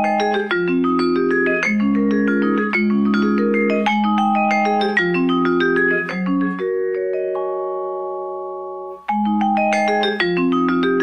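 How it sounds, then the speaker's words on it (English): Vibraphone playing a flowing melodic passage of overlapping metallic mallet notes with long shimmering sustain, one held chord ringing out before the run resumes; close and clear, no speech. "Vibraphone."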